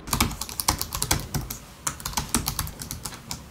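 Rapid, crisp keystrokes on the clicky optical mechanical keyboard of an ROG Zephyrus S17 (GX703) laptop, with 1.9 mm key travel, clatter in an uneven close-up burst with no talking.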